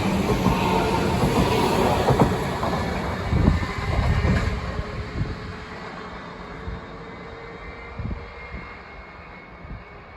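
A train departs on the Riedbahn railway in Germany, a loud continuous rumble with rolling wheel noise and a high tonal whine that slowly fades as it moves off, with no talk.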